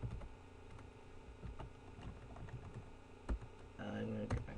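Quiet, rapid key clicks as an email address is typed on a computer keyboard, an irregular close patter that continues throughout.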